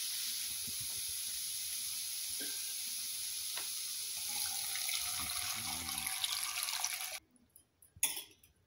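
Half a litre of water pours into a pot for vegetable soup, a steady rushing hiss lasting about seven seconds before cutting off, followed by a few faint clinks.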